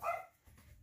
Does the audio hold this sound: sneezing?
no